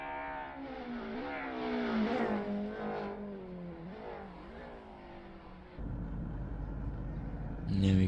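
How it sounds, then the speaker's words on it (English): A vintage touring race car on the Nordschleife passes with a rising and falling engine note, heard under continuous commentary, followed by a low rumbling drone at the end. "Lishpucho Tomov racing towards the line."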